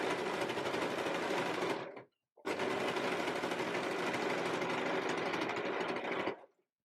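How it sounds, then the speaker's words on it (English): A sewing machine runs steadily, stitching fabric around the armhole of a dress, in two continuous bursts with a brief stop between them, close and even with no talking. "Just making sure that you don't stretch it as you are sewing it in place"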